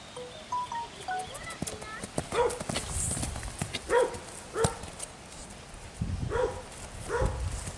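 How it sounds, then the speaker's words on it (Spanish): A gentle dun roan horse walks on a loose rein over soggy ground, its hooves clip-clopping in an uneven rhythm, with a dog whimpering and barking nearby and someone speaking over the steps. "Diego lo maneja a rienda larga, a rienda suelta"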